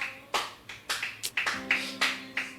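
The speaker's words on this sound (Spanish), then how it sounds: "Dele ese aplauso a Jesús." A church congregation claps for Jesus in a brisk, irregular run of about ten sharp, close handclaps, some landing in doubled pairs, with a faint hum underneath and no talking.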